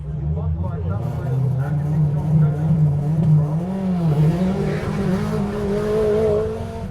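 A Subaru Impreza rally car with a 3,400cc engine races along a forest stage at the Ashley Forest Rally Sprint, its engine droning loudly and steadily with shifting pitch while someone talks over it.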